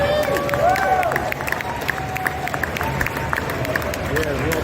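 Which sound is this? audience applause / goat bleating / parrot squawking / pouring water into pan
audience applause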